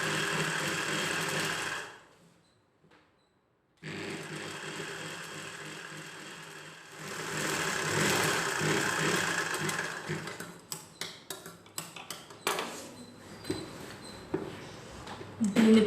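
A sewing machine runs in long continuous stitching bursts on a folded cloth waistband of a six-panel saree petticoat, pausing briefly, then breaking into short stop-start runs toward the end, close and fairly loud.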